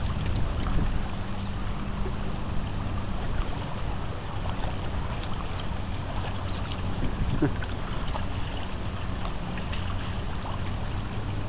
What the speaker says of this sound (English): This freighter is called the Industrial Strength. It's an intermarine freighter, and it looks like a self-unloading freighter as well.